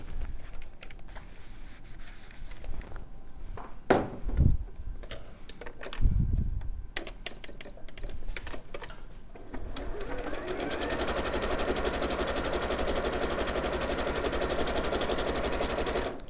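A domestic sewing machine stitches fabric for sewn animal heads, a few short bursts and clunks giving way to a steady rapid mechanical whirring run in the second half.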